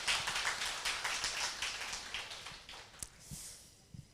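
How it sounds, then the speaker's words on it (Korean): An audience at a Korean motivational seminar claps in a fairly faint, dense patter that tapers off, leaving a few scattered sharp taps near the end. "박수 쳐주실 거면"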